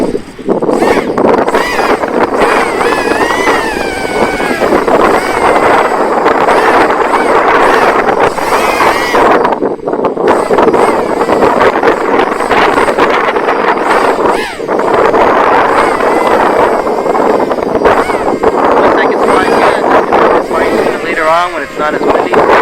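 Steady, loud wind buffeting a microphone on a Diatone Mamba F722 drone during flight, a constant rumbling roar with gusty fluctuations and some high whirring underneath.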